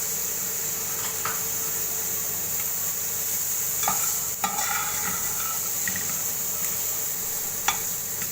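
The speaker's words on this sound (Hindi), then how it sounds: "ये मैं अब इसमें चने डाल दूँगी।" Chickpeas are tipped into about two tablespoons of hot oil for an aloo chana samosa filling and stirred, giving a soft steady sizzle with scraping stir strokes and a few sharper clinks of a spoon against the pan.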